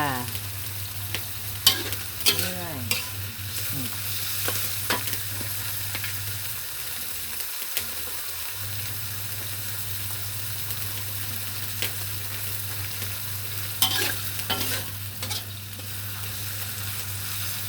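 Small shrimp and holy basil stir-fried in a pan, a steady sizzle running throughout with clattering stirring and scraping strikes scattered across it, close and alone with no talk.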